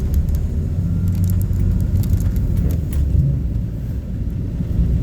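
A car drives a mountain switchback road with a continuous loud, close engine and road rumble that stays steady throughout, without any talk.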